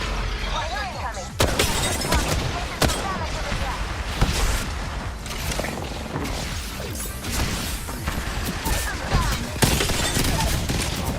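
Dense, continuous gunfire and crashing impacts from a shooter video game, loud and chaotic throughout with repeated sharp bursts and a player talking over the action.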